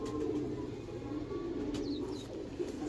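Low, soft cooing of pigeons rolls steadily through the clip, with a faint chirp or two and steady background noise, nobody speaking.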